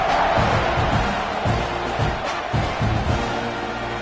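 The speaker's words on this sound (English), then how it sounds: "this crowd is buzzing after that last score" Stadium crowd in College Football 26 buzzing after a touchdown, a loud continuous roar with swells of cheering, with a commentator talking over it.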